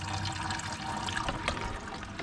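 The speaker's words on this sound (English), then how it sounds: "And so now I'm letting some of the coolant drain." Coolant drains from a Jeep Wrangler radiator during a thermostat replacement, a steady close trickle and splash of liquid with no talk.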